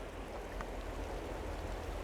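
A river running through a burn on a riverside walk gives a steady, even rush of flowing water, close by and continuous, with no voices over it.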